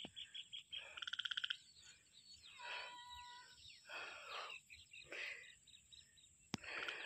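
Frogs croak at a lush green spot, a series of rough bursts and pulsed trills coming in clusters with short gaps, fairly close and clear, with no talking.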